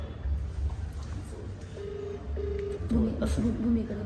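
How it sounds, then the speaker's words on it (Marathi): Short electronic tones from a phone sound in a steady sequence, close and clear over low background noise and a murmur of talk. "आता मी भूमीच्या मम्मीला फोन करतोय"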